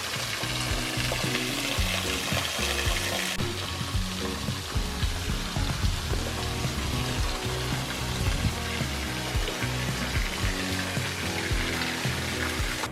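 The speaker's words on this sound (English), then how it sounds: "It's a waterfall." A waterfall near Devil's Throat cave in Bulgaria, heard as a steady, loud, broadband rush of falling water with no pauses throughout.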